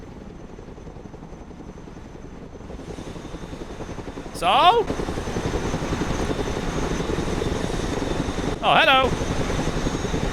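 Transport helicopter in the war game Broken Arrow, a steady rotor and engine drone running throughout, with brief voices speaking over it.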